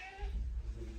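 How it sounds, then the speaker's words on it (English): A cat in an apartment gives a short, fairly faint meow, one brief tonal call that trails off quickly against a quiet room. "So cats are everywhere."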